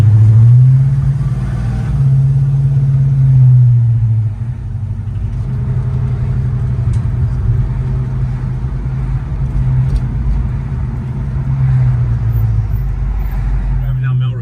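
A 1963 Ford Galaxie with a Coyote engine swap cruising along a city street, a low steady engine drone and rumble heard from inside the car, easing in intensity after a few seconds, with people talking over it.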